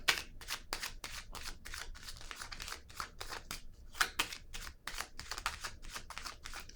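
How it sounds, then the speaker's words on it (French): Cards are handled and set down at a tarot-style reading, a quick run of close, crisp paper flicks and slaps in an uneven rhythm, faint and alone. "Je vais déposer une carte ici."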